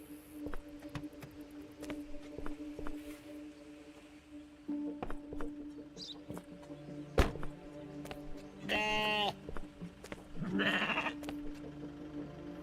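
A goat bleats twice in a video game about cargo inspection, the harmonic cries coming in quick succession amid clunks, thuds and steady in-game ambience.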